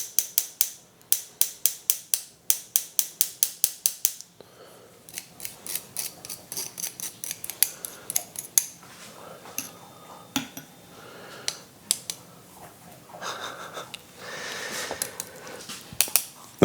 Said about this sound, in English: I'm just going to sieve this because I made something earlier and noticed I had some lumps in it.